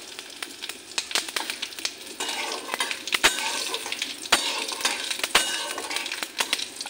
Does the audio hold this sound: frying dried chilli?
yes